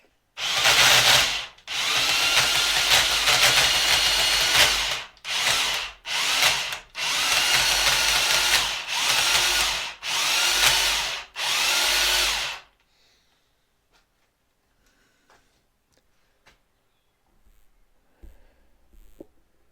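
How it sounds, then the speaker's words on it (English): A power drill winding a Bridgeport milling machine table up runs in a series of loud bursts of several seconds each, separated by brief pauses, then stops, leaving near silence with faint clicks. "I wanted a more powerful drill for taking the Bridgeport up"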